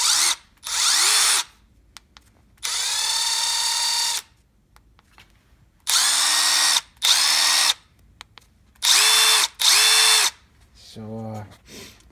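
Milwaukee M12 Fuel impact driver on high setting driving a lag screw, heard in several separate bursts of whining motor and rapid hammering with pauses of quiet between them, close and loud.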